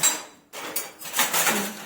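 Steel utensils, spoons, glasses and dishes clatter and clink in a home as they are handled, giving a series of close, bright metallic knocks with a short pause in between.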